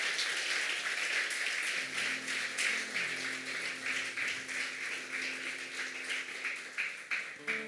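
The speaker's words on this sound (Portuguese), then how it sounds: "Aplaude ao Senhor." Congregational applause during a Sunday family church service, steady broadband clapping sustained throughout under sustained organ or keyboard tones, moderately loud and filling the room.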